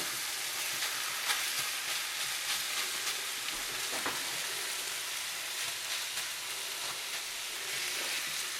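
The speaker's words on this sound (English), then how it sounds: "I'm going to give these one last flip. Break them up a little bit." Eggs sizzle steadily in a frying pan while being flipped and broken up for an omelette, a constant close crackle with faint scraping touches and no voices.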